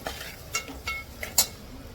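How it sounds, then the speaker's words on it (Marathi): Homemade spice masala stirred in a pan, a few light scraping and clinking strokes of a spoon against metal, fairly close and soft. "आता हे चांगले मसाले मिक्स करून घेते"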